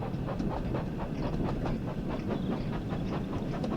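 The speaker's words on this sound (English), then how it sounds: "The best acceleration on a steam train in the world." A steam locomotive on the West Somerset Railway in the Train Sim World 5 video game picks up speed with a steady, rhythmic chuff and wheel clatter, loud and continuous throughout.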